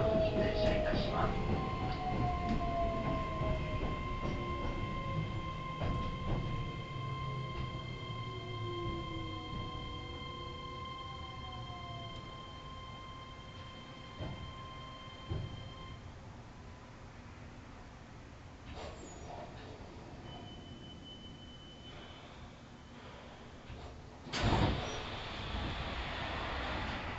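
A Keihan 3000 series express train bound for Yodo rolls along with a winding-down mechanical whine and tonal hum, gradually quieting, with a few clunks and a loud thump near the end.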